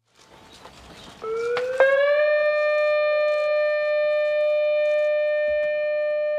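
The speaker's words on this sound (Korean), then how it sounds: "오전 10시가 되자 사이렌 소리와 함께 참배객들이 고개를 숙이고 일제히 묵념합니다." A civil defense siren sounds at the 10 a.m. silent tribute during a Korean Memorial Day ceremony at a memorial tower in Gwangju Park. It starts low, swells quickly into a loud, steady wail and holds it without any talk.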